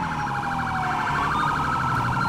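A police car siren wails steadily in a video game, a loud, close, continuous warbling tone that carries on unbroken, with no talk over it.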